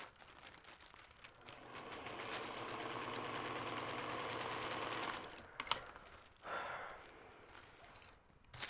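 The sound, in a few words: sewing machine stitching through vinyl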